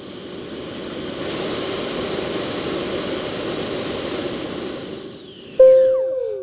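An FMS Avanti 90mm RC electric ducted fan jet runs a thrust test, its fan spinning up to a loud steady high-pitched whine, holding, then winding down with a falling tone at the end.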